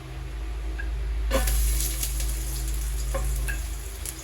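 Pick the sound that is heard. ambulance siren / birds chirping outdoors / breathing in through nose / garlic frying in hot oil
garlic frying in hot oil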